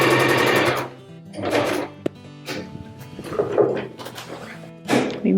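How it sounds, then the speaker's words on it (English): A sewing machine stitching a zigzag on jeans in several whirring bursts separated by short pauses, with a sharp thunk in between, close and clear. "I got my sewing machine set on the zigzag"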